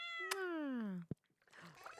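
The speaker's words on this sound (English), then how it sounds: "we're gonna go give the cat a little pat on the head" A cartoon cat in the farming game Stardew Valley gives one drawn-out, falling meow after being patted, followed by a short click and quiet game background sounds.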